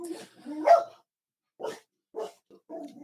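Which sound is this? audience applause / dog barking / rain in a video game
dog barking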